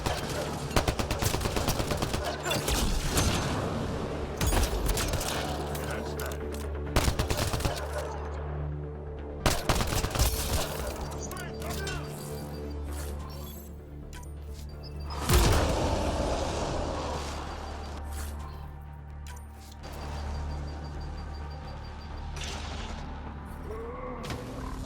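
Weapons fire in a Mass Effect Andromeda firefight rings out in steady bursts of sharp shots and booming impacts over a droning sci-fi hum, loud and continuous with occasional heavier blasts.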